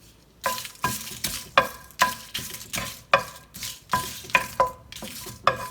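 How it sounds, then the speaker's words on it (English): Whole spices such as bay leaves and red chilies dry roast in a pan on low heat, a regular series of scraping, rattling stirs about every half second with a faint sizzle between strokes. "We have to dry roast all the whole spices."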